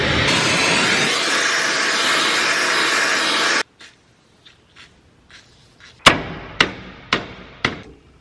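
A steady hiss of a torch heating a stuck steel bearing sleeve on an aluminum shaft breaks off, then several sharp metallic hammer strikes ring out in an uneven series, each decaying quickly, with no talk.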